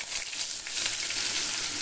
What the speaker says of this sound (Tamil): தாளிக்கீரை வடகம் நல்லா வெடிச்சிருச்சு.